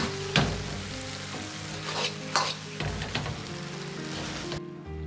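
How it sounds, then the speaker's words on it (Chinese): Diced cucumber stir-fried with pork cubes in a wok for cherry pork, a loud close sizzle under several sharp scraping tosses of the spatula, with a low hum running beneath. "接着倒入黄瓜丁，翻炒均匀。"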